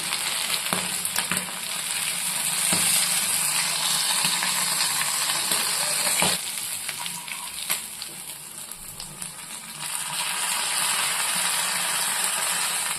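Anchovies frying in hot oil for a South Indian nethili fish fry, a steady loud sizzle and crackle with brief stirring scrapes and clinks.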